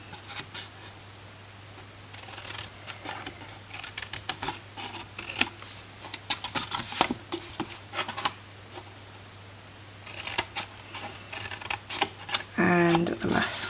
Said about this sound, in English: So just cut up and notch them out.